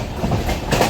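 The 22618 Intercity Superfast Express, running from SMVT Bengaluru to Tirupati, rolls along in a brief, loud burst of steady rumble and wheel clatter.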